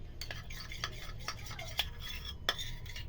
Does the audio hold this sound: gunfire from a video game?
no